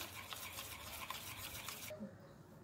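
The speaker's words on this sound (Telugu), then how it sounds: "తర్వాత బాగా మిక్స్ చేసుకోవాలి" A spoon stirs a sweet cream and sugar mixture in a bowl, giving a soft, rhythmic scraping rub that stops abruptly near the end, quiet and close with no speech.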